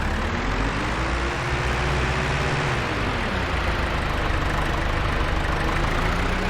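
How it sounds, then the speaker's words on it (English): A tractor engine idles in the Farming Simulator 25 video game, a loud, steady low rumble with a faint shifting whine, running alone without voices throughout. "For those of you who like tractor sounds."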